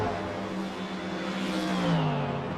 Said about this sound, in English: Love the sound of the GT4s.